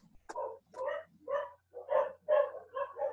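Several dogs bark in repeated bursts close by, a steady run of sharp yaps and barks filling a few seconds with no talk over them.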